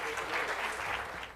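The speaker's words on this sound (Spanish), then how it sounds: "Por favor, recibámosles con un caluroso aplauso." Audience applause at CADE 2017 in Peru, a steady wash of clapping from a crowd that holds for over a second and thins slightly at the end, with no voices over it.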